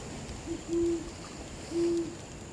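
An owl in the trees hoots from a distance, one short note followed by two longer, soft, low calls, spaced apart over a faint steady hiss.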